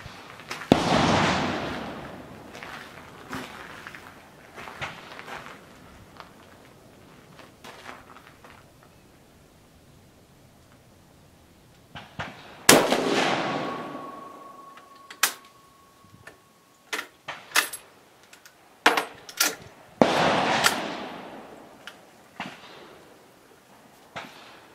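Shots from a Carcano 1938 Cavalry Carbine in 7.35x51mm, several sharp loud reports spread across the stretch, with echoing tails, a cluster of quicker cracks and quieter clicks of the action between them, outdoors.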